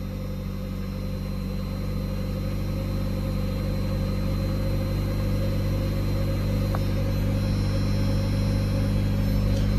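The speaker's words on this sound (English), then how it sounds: "It's idling nice." A Mazda MX-5 Miata (NA8) engine idles steadily after an ECU capacitor replacement, a constant close-up mechanical hum with an unchanging low rumble throughout.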